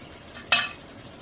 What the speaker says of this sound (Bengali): এখন নাড়া দিয়ে আবার ডেকে দিব